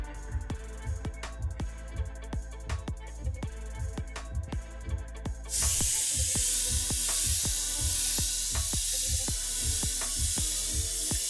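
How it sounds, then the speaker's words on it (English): Monochrome airbrush spraying paint, a steady broadband hiss that surges loud and continuous partway through, layered over repeated rhythmic thumping pulses. "this paint is actually spraying nicely"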